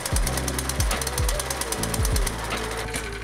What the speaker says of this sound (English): Rev the engine with the silver throttle to make sure it's running smoothly.